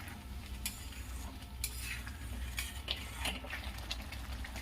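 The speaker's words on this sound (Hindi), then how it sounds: "देखिए दोस्तों, मसाला भुना रहा है।" A spoon stirs and scrapes masala frying in hot oil in a pan for aloo matar, with a steady sizzle and repeated clinks and scrapes, up close and without speech.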